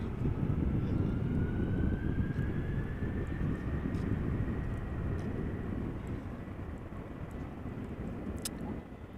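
A Delta Air Lines Airbus A330-300 jet passes at Amsterdam Schiphol Airport, giving a steady low engine rumble with a thin rising whine that slowly fades toward the end.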